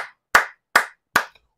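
Three separate hand claps, sharp and evenly spaced at close range, alone without talk, following remarks about applauding opposition supporters of RDPC ministers in Cameroon.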